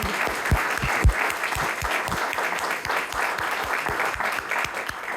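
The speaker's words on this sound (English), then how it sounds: "Give them a round of applause for continuing to support." A round of applause for the candidates at a library candidate forum, with steady crowd clapping and some sharp individual claps standing out near the front, holding at an even level for the whole stretch with no talk over it.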